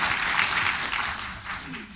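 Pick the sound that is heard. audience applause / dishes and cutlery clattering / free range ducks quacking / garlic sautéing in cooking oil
audience applause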